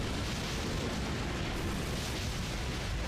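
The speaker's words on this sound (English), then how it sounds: "Ooh, explosions. Love me some explosions." Roaring explosions in a Godzilla video game, a continuous loud wash of booming destruction with no gaps or separate blasts standing out.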